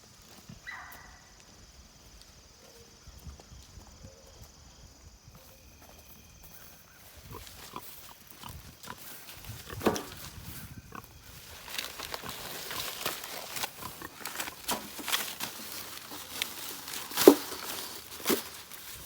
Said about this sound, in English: This is a Mangalitsa barrow right here that is going to be some fine food.